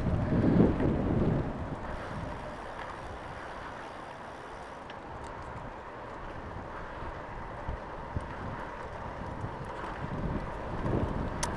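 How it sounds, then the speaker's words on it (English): Outdoors on an autumn bike ride around town, strong wind buffets the microphone in a continuous, loud, rumbling roar that swells and eases in gusts. "Pretty windy."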